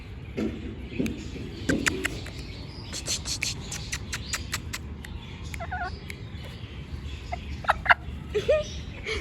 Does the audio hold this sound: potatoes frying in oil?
no